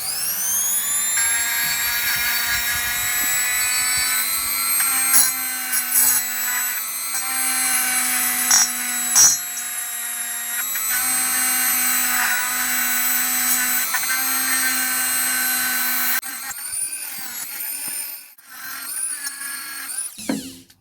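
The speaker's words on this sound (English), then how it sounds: "If I go too fast, these cheap brushes just fling out the needles everywhere" A cheap rotary wire brush spins at its lowest speed cleaning the valves of a Honda CB250N Superdream, a loud, steady whining hum with a few scratchy touches, then the pitch wavers and drops near the end.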